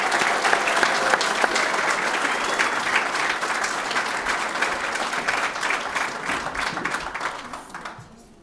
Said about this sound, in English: give one more round of applause for our new apprentices at Forsyth